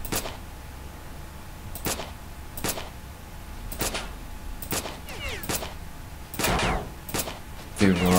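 Gunfire in the video game STALKER: Shadow of Chernobyl, heard as sharp single shots spaced about a second apart, loud and close, with a faint steady background hum.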